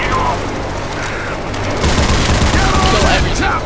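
A mounted turret in Left 4 Dead 2 fires a loud, continuous stream of shots that intensifies partway through, mixed with dense game noise and a voice talking over it.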